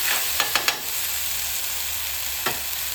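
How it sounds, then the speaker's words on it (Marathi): Green paste goes into a pan and sizzles steadily as fish fries, with a few sharp clinks from a utensil stirring against the pan, close up and with no talking. "आता ही ग्रीन पेस्ट टाकतोय जेणेकरून त्या माशात चव चांगली होता."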